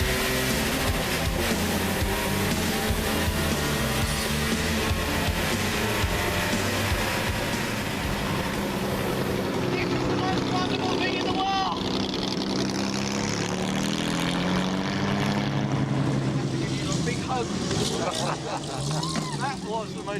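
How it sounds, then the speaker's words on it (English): A 1957 D-type Jaguar race car that has raced at Le Mans roars at sustained full throttle around the circuit, loud and close throughout, with a shifting engine note and a passing whoosh partway through. "I've been let loose in a 1957 D-type Jaguar, which has actually raced here at Le Mans"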